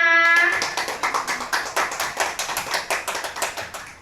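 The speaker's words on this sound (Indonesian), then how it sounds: "Tepuk tangan untuk kita semua." A small group claps in quick, uneven rhythm for a few seconds, following a brief sung or spoken tone at the start.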